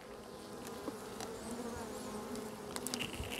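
A honeybee colony hums steadily at a hive being prepared for winter, a dense, continuous buzz of many bees close by with no one speaking.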